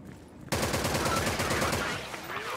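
Incoming automatic gunfire in the video game Soldier Front 2: a sudden, loud burst of rapid, evenly spaced shots that runs for about two seconds and then eases slightly.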